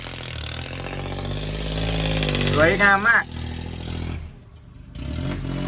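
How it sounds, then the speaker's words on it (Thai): A tractor ploughing a field behind a house, its engine chugging and clattering steadily in the background while someone talks over it. "รถไถมันไถอยื่หลังบ้านนะครับ"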